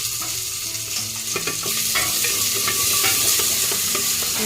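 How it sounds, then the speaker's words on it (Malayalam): Small onions fry and sizzle in hot coconut oil while being stirred, a steady bright crackle filling the clip with occasional scraping from the stirring and no voices. "അതിലോട്ട് നമുക്ക് വെളിച്ചെണ്ണ ഒഴിച്ചു കൊടുക്കാം. അപ്പോൾ നമുക്ക് ചെറിയ ഉള്ളി ഇട്ട് കൊടുക്കാം."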